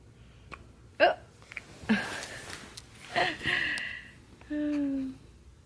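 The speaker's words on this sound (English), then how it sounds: "Baby has the hiccups." A baby hiccups several times, short sharp catches spaced about a second apart, close and clear, followed by a soft high whimper-like vocal sound.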